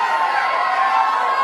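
A sold-out crowd at a Donald Trump rally in Maine roars steadily, a broad, sustained wash of cheering voices with no pauses over the short stretch.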